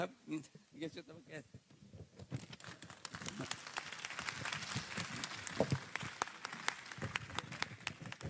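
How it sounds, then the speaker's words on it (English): Warm applause from an audience at a Buddhist Sangha forum speech in India, starting sparse with scattered claps and a voice in the opening seconds, then swelling into steady, dense clapping that carries on for several seconds at moderate distance. "Thank you for warm clap."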